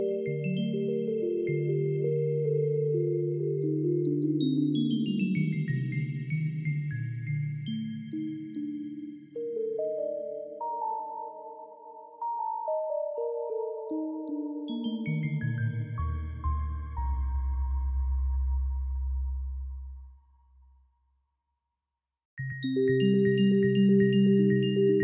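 CZ Alpha Kontakt library keys played through added reverb: sustained synth chords and gliding tones that descend into a deep low swell, fade to silence, then return loudly with a new chord, no talk.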